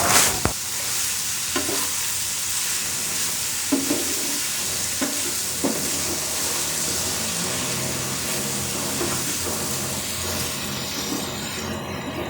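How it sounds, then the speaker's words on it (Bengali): Mushrooms are stirred into a frying masala in a pan, with a steady sizzle throughout and occasional louder scrapes and knocks of the spoon, close and alone without talk. "এবার আমি মাশরুমগুলো দিয়ে দিচ্ছি। মাশরুমগুলো আবার নেড়ে চেড়ে এগুলোর সাথে মিশিয়ে নেব।"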